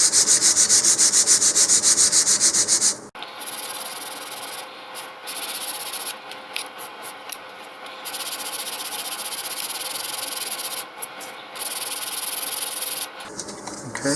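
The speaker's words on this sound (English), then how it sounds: "I'm just going to sand with the grain here." Steady, continuous scratchy rubbing of 100-grit sandpaper on the wood of a model rocket, close and loud, with brief pauses and shifts in stroke between passes.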